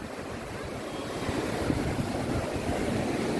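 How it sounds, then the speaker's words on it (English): Big ocean waves roll onto a windy beach, a steady, dense roar of surf and wind buffeting the microphone with no pause throughout. "Yeah, big waves. And it's windy also."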